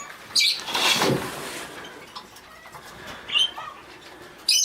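Pet birds, including pigeon- or dove-like cooers, call inside an indoor bird room: soft low coos mixed with several short, bright chirps and rustles scattered across the few seconds, nearby and moderately loud.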